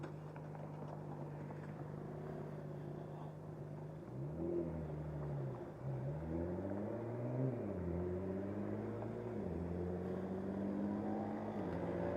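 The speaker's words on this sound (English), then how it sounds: "That car does not sound good" A steady, uneven drone from a rough-running car engine with low rumble, shifting pitch as it revs up and down, continuous and fairly close.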